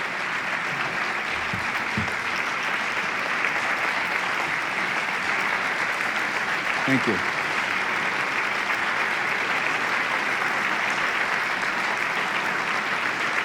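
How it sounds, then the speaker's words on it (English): A lecture audience applauds at the end of a talk on modern paganism, a sustained, even roar of clapping that continues unbroken for the whole stretch, with a brief spoken thanks near the start. "Don't clap too long, we won't get to questions."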